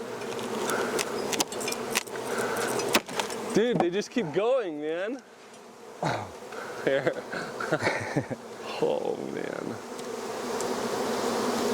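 Honey bees from a hive inside an old abandoned house buzz loudly and continuously close by, the hum rising and falling as individual bees fly past, while someone talks and exclaims over them.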